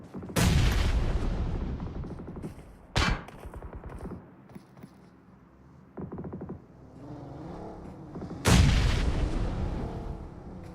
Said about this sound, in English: Grenade bomb.